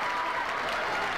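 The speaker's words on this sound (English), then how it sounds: "We got clapping." Steady applause from a basketball crowd at a Kansas high school sub-state game, a dense continuous patter of clapping that fills the whole moment with no break.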